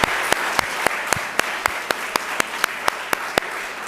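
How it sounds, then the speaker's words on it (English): A crowd applauds at a youth entrepreneurship competition awards evening, dense clapping underneath sharp, evenly spaced louder claps that stand out in a regular rhythm, steady throughout. "So one more round of applause for everyone involved in making tonight possible."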